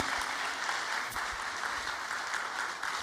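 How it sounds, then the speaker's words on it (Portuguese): A church congregation at a Portuguese-language testimony service applauds a pastor's wife with a dense, even wash of clapping that fills the whole moment without a break. "Uma salva de palmas para a irmã Pastora Basti."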